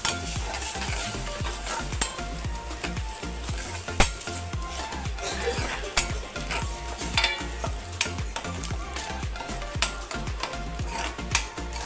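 Onion-coconut paste is stirred into mutton frying in a pan, with a steady sizzle beneath repeated scraping strokes of the spoon, close and continuous.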